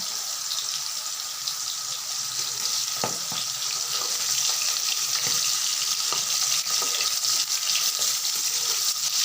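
Pangas fish pieces rubbed with salt and turmeric frying in oil, giving a loud, continuous sizzling hiss with scattered pops and sputters throughout, no voices.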